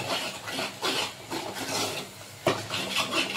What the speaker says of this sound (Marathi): अर्धा चमचा हळद टाकते आणि सगळं हलवून घेते।